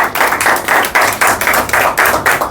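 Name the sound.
audience applause welcoming a poet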